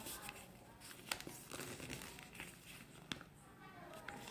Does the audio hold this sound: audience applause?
no